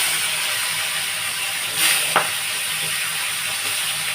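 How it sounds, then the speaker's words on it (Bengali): Fish coated in oil, salt and turmeric fries in hot oil with a steady, close sizzling hiss, broken only by a brief louder crackle partway through. "আমি আর মাছটা ভাজা বসাচ্ছি।"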